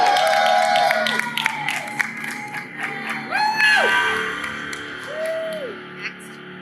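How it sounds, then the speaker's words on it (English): An audience at a Manila press conference cheers and shouts for Rachel Brosnahan, a steady crowd roar with scattered whoops and some clapping, fairly loud and tapering slightly toward the end. "Let's hear for Rachel, ladies and gentlemen."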